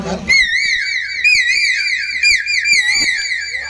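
A person imitates a koel's call with a warbling, trilling whistle, held for a few seconds, close and clear.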